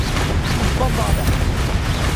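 Bombarda blasting spell going off in Hogwarts Legacy, a dense rumbling burst of noise with heavy low-end boom and crackle, loud and sustained throughout, with game voices partly mixed in.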